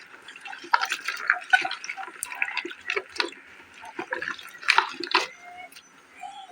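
Chopped vegetables are washed in water at home, with close splashing, sloshing and dripping that rise and fall in uneven bursts over several seconds, without talking.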